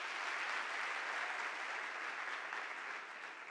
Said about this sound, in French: Démarrons cette session, mesdames et messieurs, avec vos applaudissements